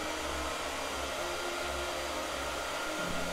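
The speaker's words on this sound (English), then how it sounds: "All right, you ready for the first blow dryer?" A hair dryer runs continuously up close, blowing at a steady loud whir to dry paint, with no talking over it.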